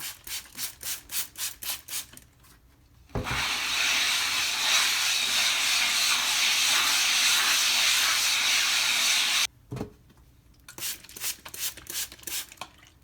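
A sharpening stone scrubbed in steady circles on a gritty flattening plate gives a loud, continuous abrasive hiss for several seconds, framed by shorter rhythmic rubbing strokes before and after.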